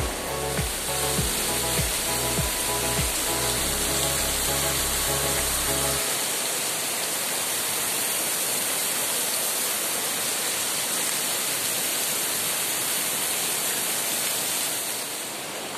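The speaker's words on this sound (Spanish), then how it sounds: "Nos tocó ingresar al río porque ya aquí ya no hay por dónde pasar." Pita river rushing near the Gran Cascada outside Sangolquí, Ecuador: a steady, loud broadband roar of flowing water that runs unbroken throughout, with some low rhythmic thumping during the first few seconds.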